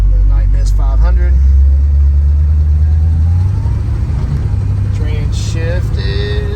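A 1967 Shelby GT500 with a 428 V8 rumbles loud and close from inside the cabin, its low drone rising as the car accelerates, while someone talks over it.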